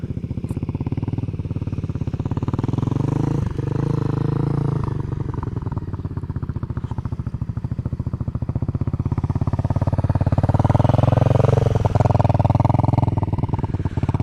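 A motorcycle putters steadily at low speed while making slow turns around an open field, its engine note holding close and continuous and swelling slightly louder toward the end.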